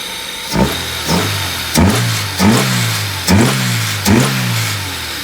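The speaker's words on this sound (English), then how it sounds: "Quite the noisy intake." A Honda Civic engine with a noisy intake runs at close range, revving in six repeated blips about every half to one second, each rising sharply then settling back toward a rough idle.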